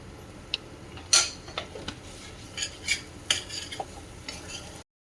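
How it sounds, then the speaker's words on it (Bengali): Masala for paneer bhurji being stirred and fried in a pan, scattered sharp clinks and scrapes of a metal spoon over a faint sizzle, close and irregular, without voices. "এখন এই যে এই মশলাটা ভালোভাবে কষা হচ্ছে"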